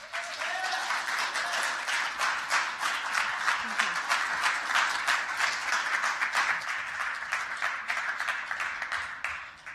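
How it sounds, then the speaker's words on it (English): An audience claps steadily for a woman coming on stage at a startup conference session, a dense, sustained round of applause with a few voices mixed in. "a big round of applause for her"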